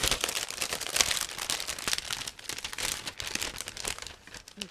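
A resealable plastic bag holding the sprues of an ICM 1/48 OV-10A Bronco model kit is opened and handled, giving close, continuous crinkling and rustling of thin plastic.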